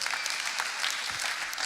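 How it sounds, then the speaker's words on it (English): An audience at a church gathering claps together in sustained, dense applause that stays loud and even throughout, with no talking over it. "Clap yourselves up for that."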